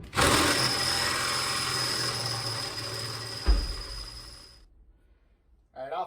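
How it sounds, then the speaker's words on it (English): A power drill whines steadily and loudly for several seconds while drilling a hole through a 1956 Chevy pickup floor, catches with a brief thump, then winds down and stops, leaving near silence before a short burst of sound. "drilling the hole for the"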